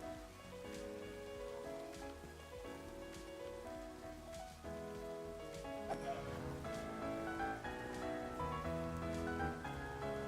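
Steady patter of rain in the game Minecraft, faint and continuous, with brief clicks and soft in-game sounds scattered over it at night.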